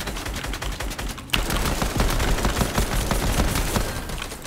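Rapid video game gunfire crackles in dense bursts of overlapping shots, a brief gap and then sustained automatic fire, fairly close and continuous with no talking.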